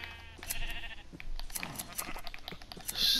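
Sheep in Minecraft bleat repeatedly, several short, nasal, fairly close calls in an irregular rhythm, alongside faint clicks and brief bursts of other game sounds.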